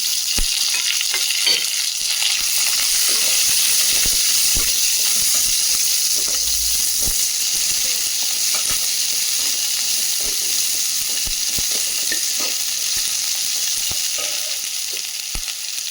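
Fresh curry leaves, fennel seeds and small shallots fry in hot oil for a fish curry, giving a loud, dense, continuous sizzle. Occasional light clicks of stirring run through it and no one speaks.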